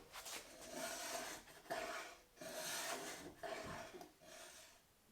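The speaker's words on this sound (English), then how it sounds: "but you can also do it with a rasp." A rasp shaping a wooden guitar neck, five or six rhythmic coarse scraping strokes, close but fairly quiet, with nothing else heard.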